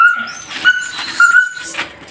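A husky whimpers close by in a short run of high, thin whines and cries broken by brief pauses.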